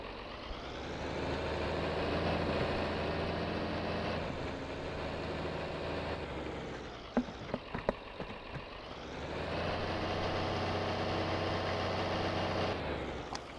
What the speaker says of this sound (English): Start the tractor.